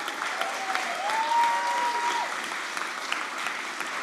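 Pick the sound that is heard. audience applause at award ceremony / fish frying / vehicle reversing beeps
audience applause at award ceremony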